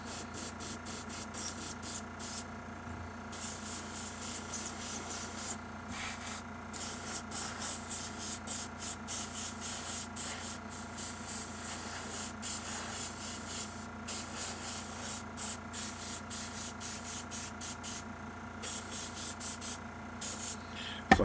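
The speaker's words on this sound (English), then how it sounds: "just so you know, about airbrush, why I like this airbrush so much" An airbrush sprays paint onto a Creative Geek's The Huntress figure in a steady, close hiss that runs almost continuously, broken by short pauses where the trigger is released, with no talking.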